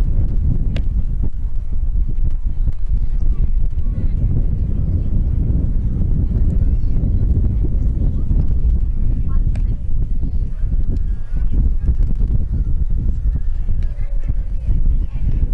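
Strong wind buffeting an outdoor high school softball game, a constant loud low rumble over the microphone, with a commentator talking over it throughout.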